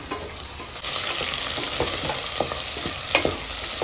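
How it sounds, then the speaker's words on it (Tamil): Three green chillies saute in hot oil in a pan for chicken biryani, a quiet start jumping into loud steady sizzling with scattered stirring clinks and scrapes, no voices. "ஒரு 3 பச்சை மிளகாய் போட்டு வதக்கலாம்"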